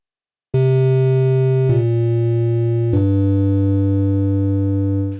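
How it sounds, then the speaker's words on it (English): A synth plugin's string model plays three sustained, piano-like notes in succession, each with a sharp attack and a long, ringing tone that holds until the end. "I'd say the sound of string 1 is more piano and less guitar string"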